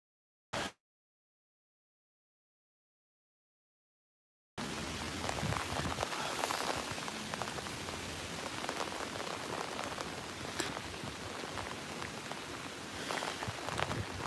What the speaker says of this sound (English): it is raining moderately now